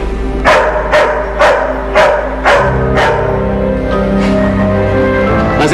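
A dog barks loudly and close by, six sharp evenly spaced barks followed by a few softer, fainter ones over a low steady hum.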